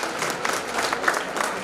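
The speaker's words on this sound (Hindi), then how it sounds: "स्वागत करें उनका तालियों से।" Brief burst of audience applause welcoming guests at a yoga and neuroscience conference, dense clapping from a crowd in a hall, moderately loud and steady.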